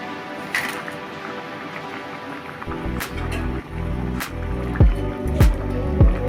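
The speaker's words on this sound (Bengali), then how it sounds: "এখন আমরা মাছগুলো দিয়ে দেব।" Pieces of surma fish drop into a pot of pumpkin fish curry. A quiet simmering background is broken by a few soft, wet plops and squelches near the end, close by.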